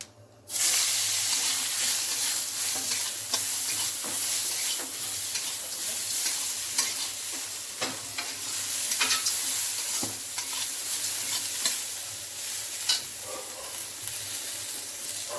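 Eggplant and bitter gourd fry for shukto, giving a loud, continuous oil sizzle that starts abruptly and keeps going, broken by occasional clinks and scrapes from stirring.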